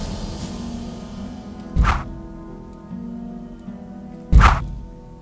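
Two solid thunks in the game Gothic land a couple of seconds apart over a low ambient hum, each a short heavy impact like an arrow striking a target.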